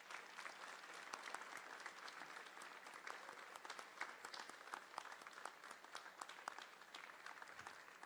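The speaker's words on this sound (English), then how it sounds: "Let's give them a round of applause." Steady applause from a high school audience, many hands clapping continuously, moderately distant with no talking.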